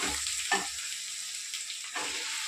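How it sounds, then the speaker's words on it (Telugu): Cucumber pieces sizzle steadily in a hot pan with curry leaves, a continuous frying hiss broken by a couple of brief stirring scrapes, close and alone. "ఇప్పుడు దోసకాయ ముక్కలు వేసేసుకున్నాం"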